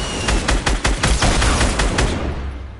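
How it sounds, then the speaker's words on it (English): Rapid bursts of gunfire in a video game shooter, close and loud, with repeated shots cracking in quick irregular volleys that fade slightly at the end. "Keep shooting at him, Bobo."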